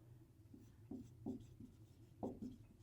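A pen writes on paper while a maths exercise is worked, making faint, close scratchy strokes in several short, irregular bursts, with no voices.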